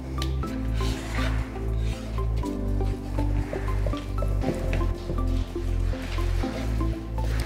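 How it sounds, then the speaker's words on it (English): Epoxy resin stirred steadily in a bucket, a continuous wet squishing and scraping with soft drips, repeating in an even rhythm, close and moderately loud with no talk. "So you want to keep stirring for probably about 5 minutes."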